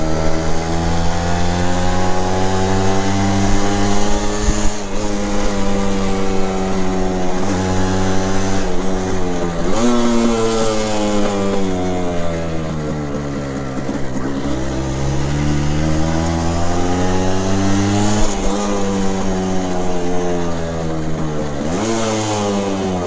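A 1967 Bridgestone 90 motorcycle runs loud and close, its buzzing two-stroke engine rising in pitch through the revs, then dropping sharply at each gear shift, repeating over a long ride.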